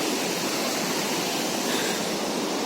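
A waterfall roars up close, a dense, steady rushing wash of water that fills everything with no pauses and no voices.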